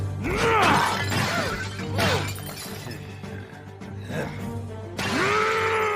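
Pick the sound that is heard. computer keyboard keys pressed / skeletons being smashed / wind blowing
skeletons being smashed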